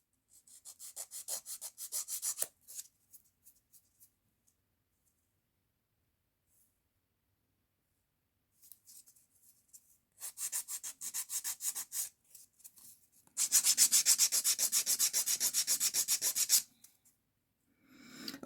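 Electric nail file sanding down an acrylic nail, a close, bright high-pitched grinding in short bursts, then a long steady run near the end, with pauses of near silence in between.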